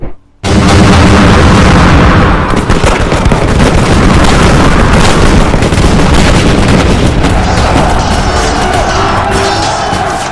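Dense, loud rolling volleys of musket fire and booming battle noise in the Napoleonic strategy game Wars of Napoleon, crackling and crashing continuously without pause.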